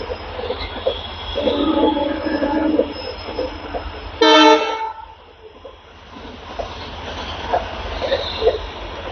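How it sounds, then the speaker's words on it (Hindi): Mahabodhi Express pulls out of Anand Vihar railway station in Delhi, its wheels rumbling and clattering steadily while one loud, blaring horn blast cuts through midway, then the rolling noise resumes. "ये भाई साहब महाबोधि एक्सप्रेस निकल रही है आनंद विहार रेलवे स्टेशन से"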